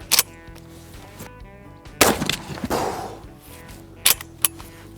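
Sharp gunshots crack out one at a time at targets in an ammunition test, with pauses between them, loud and close, each followed by a brief echoing tail.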